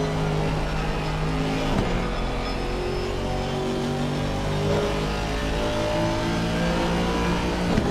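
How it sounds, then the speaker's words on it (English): Aston Martin race car in a racing video game at Mount Panorama, engine droning loud and steady throughout, pitch climbing and falling through gear changes with a brief dip near the middle, no voices. "Just listen to them noise, that Aston Martin."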